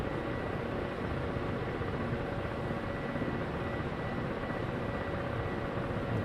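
A Ka-50 Black Shark helicopter engine in the DCS flight simulator, a steady, droning whine with constant rotor roar at moderate level, unbroken throughout.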